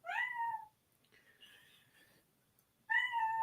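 A pet cat meows several times with clear, close, drawn-out cries, then a softer, lower call, then another strong meow after a short quiet gap; no talking.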